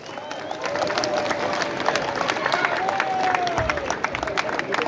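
An audience at the first day of the Ilinden gathering in Vršnik, Rusinovo, applauds steadily, with dense clapping and crowd noise that stays loud and even from start to finish.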